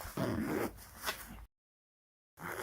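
A repaired zipper with a touch of Vaseline on it is pulled in two quick, close strokes: a raspy zip, a short silence, then another pull starting.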